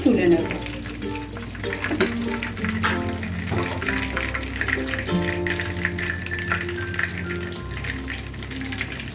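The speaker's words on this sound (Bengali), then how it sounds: "মিডিয়াম ফ্লেমে এগুলো খুব সুন্দর করে ফ্রাই করবো" Bread chicken rolls fry in oil on a medium flame, a continuous close sizzle with bubbling over a faint tonal background, and a voice is heard briefly.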